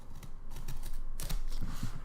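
Box packing tape being sliced open with a blade, a run of close, crisp scraping and ripping strokes with small creaks, no talking.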